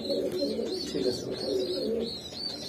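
Pigeons coo steadily at close range in a racer pigeon farm, a continuous layered cooing with soft chirps, while one person briefly speaks a single word.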